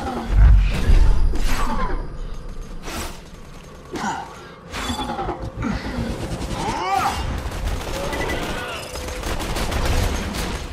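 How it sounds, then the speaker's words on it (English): Gunfire in Borderlands 2 as shots are aimed at the floor: loud, close bursts of rapid shooting with sharp impacts, repeating over a steady bed of game noise. "Shoot the floor. Wait, shoot the floor."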